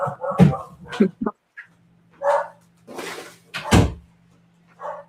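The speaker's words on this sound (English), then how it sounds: "My dog's going crazy." A dog barks excitedly in several loud, close bursts behind a door, with a thump and a low hum between the barks.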